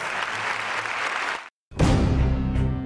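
Applause in a radio advertisement: a dense crowd clapping fills the first moment, cuts to brief silence, then loud clapping returns briefly.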